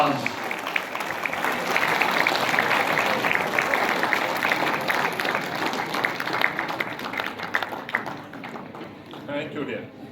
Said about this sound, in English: A loud applause